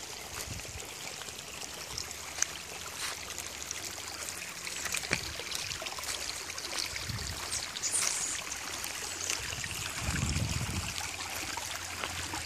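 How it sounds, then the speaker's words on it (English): Water runs steadily down a road in a continuous trickling, bubbling wash, close and moderately quiet, with faint outdoor background and no talking. "Running down the road happily while we have none in our taps."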